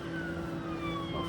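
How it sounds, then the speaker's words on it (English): A fire truck or ambulance siren wails steadily on a downtown street at 3 a.m. near a hospital, heard from a moving e-bike over a constant road and traffic rumble. "a fire truck or an ambulance"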